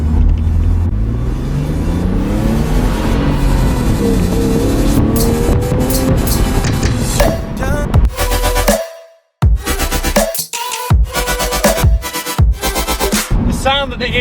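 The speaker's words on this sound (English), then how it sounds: "The sound that the inline-6 engine makes is really, really nice." Inline-six engine of a used sports car revving and accelerating hard, a loud, rising growl with tire squeal, then a cut to a series of sharp, choppy bursts of engine noise broken by brief gaps.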